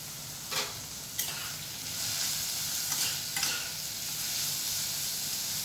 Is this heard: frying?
yes